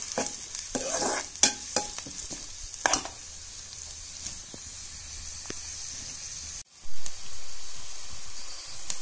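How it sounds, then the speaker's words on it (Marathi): Onion fries in a pan for a village-style Konkan wild vegetable dish. A steady sizzle runs under sharp scraping stirs that come thickest early on. The sizzle briefly cuts out near the end, then resumes. "कांदा व्यवस्थित आता गोल्डन फ्राय झाला आहे."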